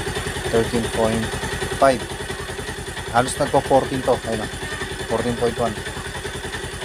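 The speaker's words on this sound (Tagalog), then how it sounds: "Pag start ko yung motor ko" A motorcycle engine idles with a steady, fast low throb all the way through, while someone talks close by over the running motor.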